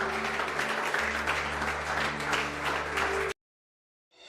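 A church congregation applauds in sustained, dense clapping that holds steady for about three seconds over a low musical drone, then cuts to silence before a faint rise of sound returns at the end.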